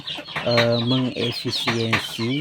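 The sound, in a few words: chickens clucking in a colony coop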